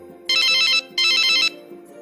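A telephone rings after a number is dialed, two loud electronic ring bursts separated by a brief pause, clear and alone.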